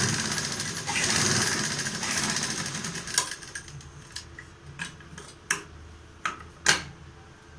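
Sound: sewing machine stitching the sides of a fabric mask

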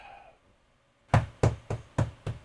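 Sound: knocking on a door

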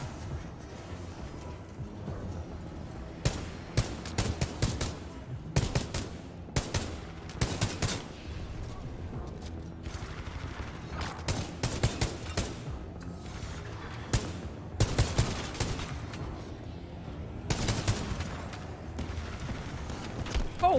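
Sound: enemies shooting guns in the video game Titanfall 2

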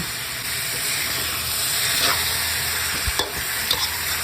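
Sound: stir-frying tomatoes sizzling in a pan

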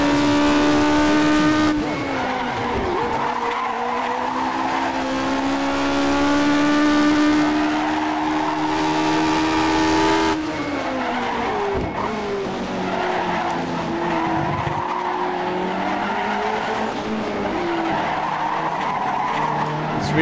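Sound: classic Tyrrell race car skidding in video game rFactor 2

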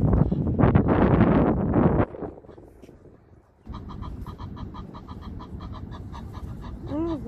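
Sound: Egyptian geese calling

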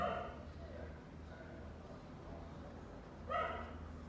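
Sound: dogs barking

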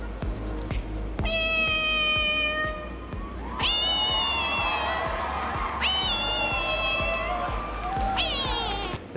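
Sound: woman imitating a cat meowing

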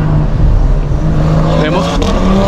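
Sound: Audi RS3 race car accelerating past

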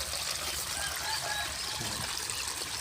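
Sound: fresh water poured into a tadpole tank

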